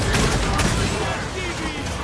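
Dense, sustained gunfire from a Gears of War 4 firefight, a steady roar of rapid shots layered with booming impacts and some background voices.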